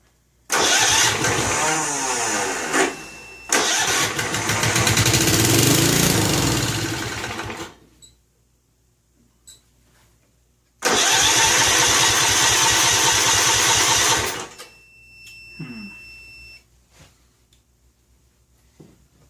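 A Snapper lawn mower engine with gas squirted into the carburetor cranks and catches in two loud, close bursts of sputtering running, each dying out, with a quiet gap between them and no talk.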